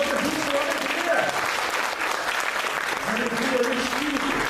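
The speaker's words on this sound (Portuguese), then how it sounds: "Só quem está alegre aí aplaude o nome do Senhor Jesus com alegria" A church congregation claps joyfully in praise, steady dense clapping filling the whole stretch, with voices and a faint tonal sound beneath.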